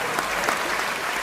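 Scattered applause from a handful of people at a live Hindi comedy and satire show, a thin, steady patter of claps lasting just over a second with no voices on top.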